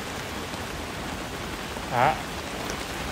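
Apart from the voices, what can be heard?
heavy rain with strong wind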